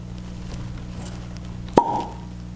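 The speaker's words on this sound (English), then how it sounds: "let's go in for the uncorking here" A cork pops from a bottle of Redbreast 12 Cask-Strength whiskey: one sharp, close pop with a short hollow ring, over a low steady background hum.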